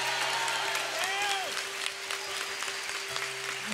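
A church congregation in Curitiba applauds at a Catholic prayer gathering, with steady clapping under a sustained held tone and a voice sliding up and down, the applause gradually thinning.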